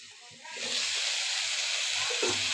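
Soya chunks sizzle and hiss loudly in a hot frying pan while being stirred, with soft scraping thumps of the spatula under a steady, close frying sound.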